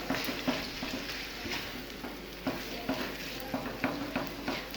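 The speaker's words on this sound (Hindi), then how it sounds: "इसको हम इस वक्त तक फ्राई करेंगे जब तक चिकन का कलर चेंज नहीं हो जाता" Chicken pieces frying in a pan, a steady close sizzle broken by regular scraping and stirring knocks from a utensil against the pan, with no talking.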